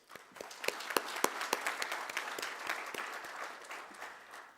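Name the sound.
audience applause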